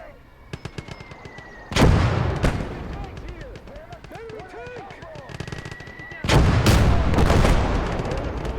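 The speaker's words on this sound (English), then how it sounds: "That is a big gun." A big gun fires during a Kelly's Heroes video game battle, with two heavy booming blasts separated by several seconds, plus scattered sharper cracks of gunfire and a steady mechanical hum between them.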